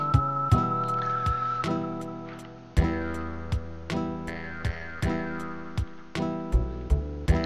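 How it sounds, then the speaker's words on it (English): Whistled melody from a character's music theme in the Final Fantasy VI game, a sustained whistle line over steady plucked and struck instrumental accompaniment with a regular beat, played alone without talk. "his theme here, the whistling, it kind of reminds me of the music from Wild Arms"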